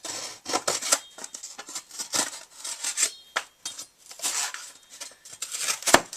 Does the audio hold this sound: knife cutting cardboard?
yes